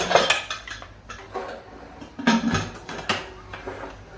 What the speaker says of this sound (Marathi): आता आपण एका कुकरचं झाकण लावून